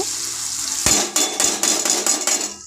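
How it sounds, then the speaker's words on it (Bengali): Cabbage tossed into a pan of cooked masala with coriander leaves and stir-fried, a loud sizzle with repeated sharp scrapes and clanks of a spatula against the pan, close and alone. "দিয়ে এটাকে ভালো করে নাড়াচাড়া করে কষিয়ে নেবো"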